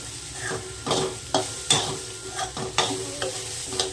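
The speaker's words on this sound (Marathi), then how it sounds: "तेल टाकून भाजायचं" Sweet corn roasts in oil in a pan while being stirred, with a steady close sizzle broken by regular scraping strokes of a spoon about every half second.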